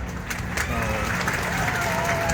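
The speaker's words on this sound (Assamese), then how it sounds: "হাত চাপৰি কিয় লাহে লাহে মাৰিছে" Soft, scattered applause from a seated crowd at a political rally in Sankardev Nagar, a brief patter of light clapping with a voice speaking over it.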